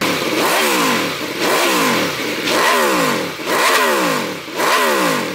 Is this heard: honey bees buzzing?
no